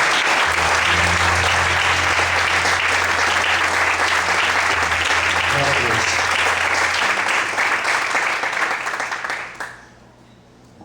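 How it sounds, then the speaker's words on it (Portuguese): A church congregation applauds loudly and steadily for several seconds, with a voice briefly calling out over the clapping before it fades away. "Você pode aplaudir bem forte ao Senhor."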